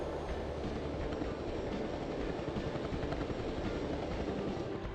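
A helicopter in the Fighters Anthology flight sim video game gives a steady, dense rotor-and-engine drone that stays at a constant moderate level throughout, with no speech.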